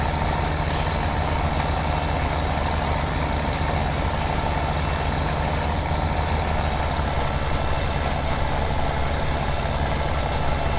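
Tractor engine in the Farming Simulator 17 video game, a steady low diesel drone that runs unbroken and fairly loud throughout, with a brief hiss near the start and no voices.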